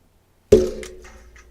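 An object bangs against a microphone in one sharp, loud thud after a moment of silence, followed by a brief rattling ring that decays over about a second.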